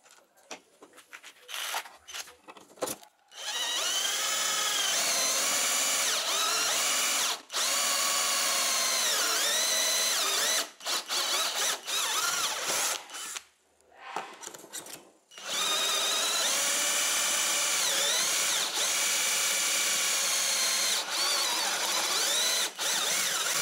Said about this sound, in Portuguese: Agora a gente vai botar a parafusadeira na broca e vai furar para vocês poderem ver.